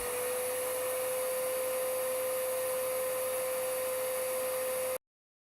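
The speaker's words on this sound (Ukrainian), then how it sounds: "Перевірю, яку потужність споживає пилосос." Close, steady roar of an HYB XC 188 high-power vacuum cleaner on its second setting, with a fixed whine slightly higher than the low setting, running unchanged until it stops abruptly.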